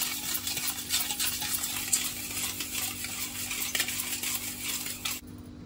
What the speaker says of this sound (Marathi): छान मिक्स करून घ्यायचं आहे, साखर विरघळेपर्यंत आपल्याला मिक्स करून घ्यायचं आहे